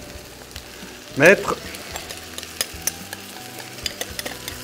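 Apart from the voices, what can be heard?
stirring chicken in a frying pan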